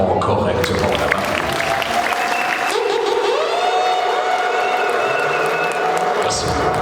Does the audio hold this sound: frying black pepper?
no